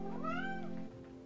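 A pet cat gives a single drawn-out meow that rises and falls in pitch, close and fairly clear, then trails off into quiet room tone.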